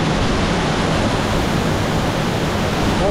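A constant, powerful roar of cascading water at the Nyabomite waterfall, largest in Nyanza, heard near and loud with no break or voices.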